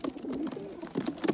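Pigeons coo in a loose, overlapping run of soft, low throaty calls with brief pauses, close by and with no voices, under an overcast sky.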